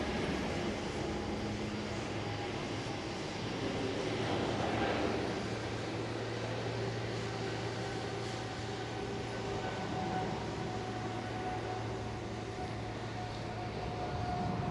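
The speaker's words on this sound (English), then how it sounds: "the KLM Dreamliner here right in front of us is pushing back right now" KLM Boeing 787-10 Dreamliner pushing back at Amsterdam Schiphol, a continuous engine hum with a low steady tone, close and constant, rising briefly in the middle, without voices.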